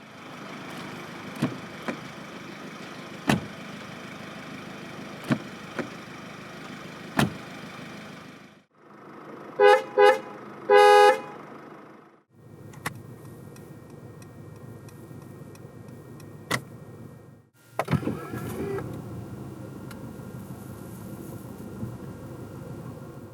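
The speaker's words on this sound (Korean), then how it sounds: "그럼 신형 C클래스가 들려주는 감성적인 소리를 들어볼까요?" A 2019 Mercedes-Benz C220d diesel: a steady engine hum with small clicks, a short burst of horn blasts, then the whir of power windows and a door or latch thud, recorded up close with no talking.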